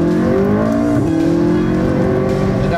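A McLaren 675LT's engine drones steadily from inside the cabin while driving, a loud, constant tone that rises briefly in pitch as the car pulls along, with no talking over it.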